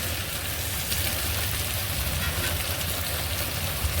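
Spice paste for a prawn and yam curry fries in a pan with added water, giving a close, even hiss that holds steady and unbroken.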